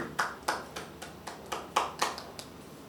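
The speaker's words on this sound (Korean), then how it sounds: "우리 하나님께 영광의 박수를 올려드리겠습니다." Scattered applause from a church congregation during a children's Sunday worship service, about eight or nine uneven bursts of clapping over three seconds, moderately distant and thinning out rather than a full roar, with no talking.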